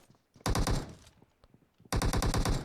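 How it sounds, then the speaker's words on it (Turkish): Bursts of automatic gunfire in the PUBG Mobile shooter game crack out in two dense rapid volleys, loud and close, separated by quieter thumps and game noise. "Kim kime sıkıyor ya?"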